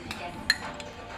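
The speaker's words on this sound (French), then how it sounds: "on va touiller. On va faire fondre tout ça." A spoon clinks against a glass while stirring Mercadona powdered ice tea into water, with a few faint taps and one sharper chink, quiet and close.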